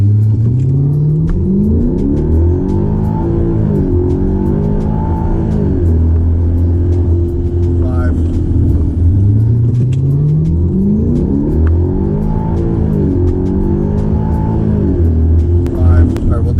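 A 2012 Hyundai Genesis 5.0 R-Spec sedan with about 140,000 miles launches hard for a 0-60 mph run, its V8 engine revving up through repeated gear changes in a loud, steady climb close by, with no talking.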